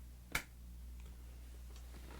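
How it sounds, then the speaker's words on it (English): A single sharp hand clap marks the start of a recording take, one crisp transient near the beginning followed by quiet room hum and faint ticks. "So clap and then start your take."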